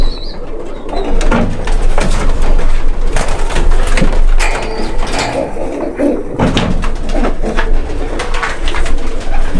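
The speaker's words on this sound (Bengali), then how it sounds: "একটা মেল কবুতর, একটা ফিমেল ছিল, এটা মেল, মেল কবুতর।" Male and female pigeons, imported red-eyed racing birds kept by a hobbyist, coo steadily and loudly at close range throughout, with faint fluttering and mechanical knocks in the background and no talking.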